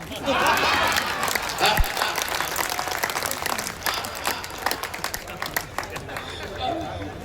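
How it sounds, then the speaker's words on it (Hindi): A live audience at a Hindi comic poetry performance breaks into loud, sustained clapping with crowd chatter mixed in, a dense patter of claps lasting several seconds. "सारे लोग ताली बजाओ वरना डांस करके दिखाओ।"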